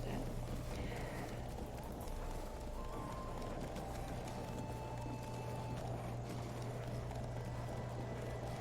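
A horse gallops in the Witcher 3 video game, its hooves making a steady rhythmic clip-clop that runs continuously for several seconds under constant game ambience, with faint speech.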